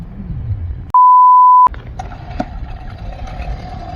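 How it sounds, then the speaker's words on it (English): Outboard motor of a sailing boat in Mexico sputters into life after a sharp electronic beep, then settles into a steady, moderately loud running drone. "see if we can get it to fire up"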